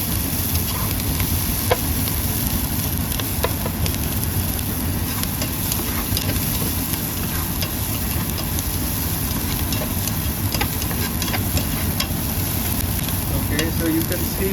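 Boiled masoor dal fries in chili-spiced oil, a loud, dense and continuous sizzle with scattered ticks of stirring throughout.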